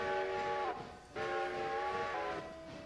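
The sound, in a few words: train whistle in railroad video game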